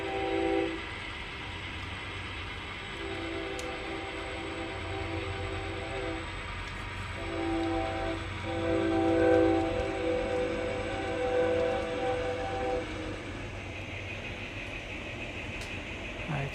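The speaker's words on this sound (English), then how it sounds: "Norfolk Southern train." A Norfolk Southern train passes by, sounding its horn in sustained chord blasts with short breaks over a steady rumble of rolling cars. The horn fades near the end, leaving the rumble.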